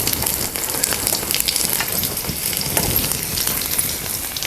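Whole garlic cloves and cumin seeds sizzle steadily in hot oil in a kadhai, a close, continuous crackling hiss with no voices.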